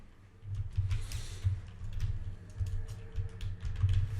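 A computer keyboard clatters with quick, irregular keystrokes typed at close range, soft individual clicks running in short bursts throughout.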